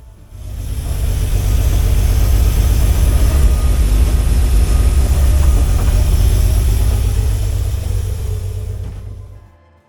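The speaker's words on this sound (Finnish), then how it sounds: "Moottori sijaitsee ohjaamotilassa ajajan vieressä." Bandvagn 206 tracked vehicle engine running steadily from inside the cab, mounted beside the driver, a loud continuous low rumble with no talk, fading out at the end.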